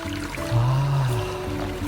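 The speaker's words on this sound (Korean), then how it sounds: "아침에 좀 주변이 조용해서 그런지 물소리가 되게 크게 들리네." Stream water flowing steadily on a quiet early-spring morning in an arts park, a continuous close wash of burbling and trickling with no pauses.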